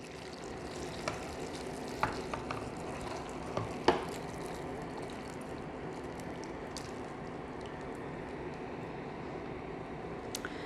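Pickling liquid being poured over garlic, with a soft steady sizzling, splashing wash and a few small clinks near the start.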